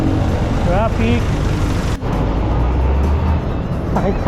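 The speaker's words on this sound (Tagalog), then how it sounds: "Traffic." Road traffic rumbles continuously as cars and heavier vehicles pass nearby, heard from a bicycle, with a voice talking briefly early on.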